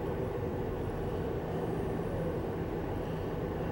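Inside a passenger train travelling from New Orleans, a low, steady rumble and rolling hum continue evenly, fairly quiet, with no voices.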